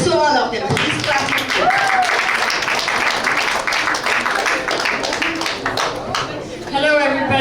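A crowd at an Amnesty International human rights day event claps steadily for several seconds, a dense patter of many hands mixed with voices chattering underneath, staying loud until near the end.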